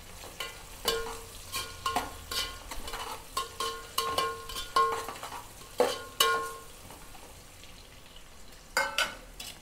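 Onions and green chilies fry in a pan, a soft sizzle under repeated rhythmic stirring scrapes and light clinks of a spoon against the metal.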